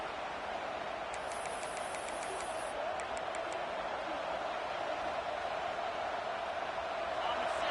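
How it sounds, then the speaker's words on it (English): Home crowd roaring at a college American football game as the defense faces third down, a steady loud stadium din with distant whistles near the start. "Here comes this home crowd as the defense tries to get off the field on third down"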